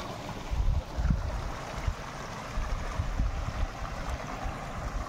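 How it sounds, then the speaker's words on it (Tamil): Water rushes steadily from a waterfall at Kodaikanal, a continuous broad roar with low rumbling swells, heard up close and without any voices. "அந்த அருவியோட சத்தமே, தண்ணி போகிற சத்தமே ரொம்ப அழகாக இருக்குது."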